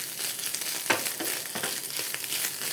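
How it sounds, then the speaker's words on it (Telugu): Fish coated in turmeric frying in hot oil, giving a continuous loud sizzle and crackle with small popping bursts and some stirring, with no voices over it. "దాంట్లో ఉన్న వాటరు మొత్తం ఆయిల్ మొత్తం చూసారా, దాంట్లోనే చేపలోనే ఫ్రై చేసేసాను"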